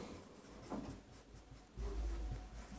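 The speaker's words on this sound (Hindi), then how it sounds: "यहाँ लिखते हैं" A teacher writes on a board during a maths lecture, making soft scratchy strokes in short bursts, faint and close, with a low background rumble and no talking.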